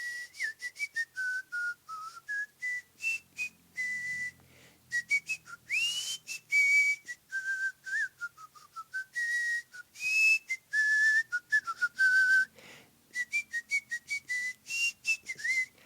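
A clear, close whistled melody, phrased in short rhythmic bursts with sliding and wavering notes, performed alone without accompaniment.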